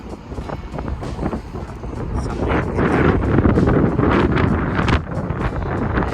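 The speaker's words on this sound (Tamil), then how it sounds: "காற்று பயங்கரமாக அடிக்குது." Strong wind buffets the microphone on a quiet beach in Kuwait, a steady loud rumbling roar with gusts that swell midway and stay heavy throughout, with no talking.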